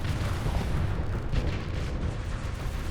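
Missile explosions in a video game come through as a steady, moderately loud low rumble with scattered muffled booms, continuous for a few seconds, with no talk over them.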